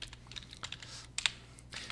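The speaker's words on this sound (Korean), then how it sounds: "키보드 버튼이 눌렸다가 올라갔어요" A computer keyboard key pressed and released makes soft plastic clicks, several faint keystrokes scattered across a quiet room.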